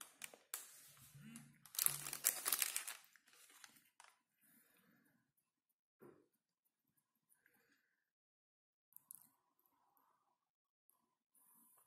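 Packaging of a Xiaomi Redmi Note 7 phone crinkles as it is opened up close, with a loud burst of crumpling early on followed by sparse, soft rustles and near silence.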